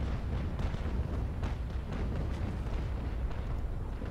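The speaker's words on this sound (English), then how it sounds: "fucking cannon fire" Rumbling volleys of ship cannon fire in the Naval Action video game, a steady low roar of overlapping booms at moderate distance with no clear gaps.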